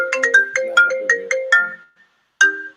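A phone ringtone plays a loud, clear melodic run of short plucked-sounding notes, pauses briefly, then starts again, close and alone.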